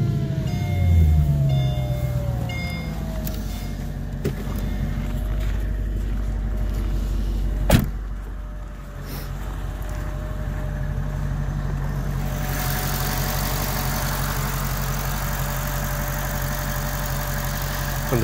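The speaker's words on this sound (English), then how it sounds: "Let's go ahead and start it up, get you some shots of the engine." A modified Mercedes SL55 AMG with a supercharged 5.4 liter V8 starts with a short cranking whir, then settles into a loud, steady, rumbling idle with a faint supercharger whine.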